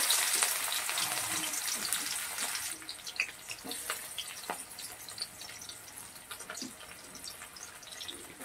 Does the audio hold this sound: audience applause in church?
no